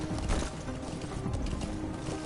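A horse in Metal Gear Solid V, with soft hoof clip-clops and faint mechanical rattling under a steady low background hum over a couple of seconds.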